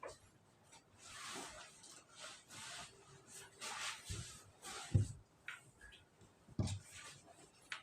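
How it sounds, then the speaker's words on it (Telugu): Scissors cut blouse patchwork fabric with soft, close rustling and snipping strokes in an uneven rhythm, quiet and faint throughout. "ప్యాచ్ వర్క్ ఈ విధంగా కట్ చేసుకోవాలి."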